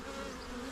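Honeybees buzz steadily at an opened beehive during an inspection, some carrying pollen, a continuous close hum with no pauses and no talking.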